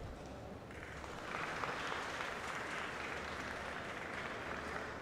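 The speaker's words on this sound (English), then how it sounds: "I'm catching a lot of applause on the other stream table" Faint, distant applause drifting over from another table at a professional pool tournament, a soft steady patter of clapping that rises after the first second and holds quietly under the room's low background.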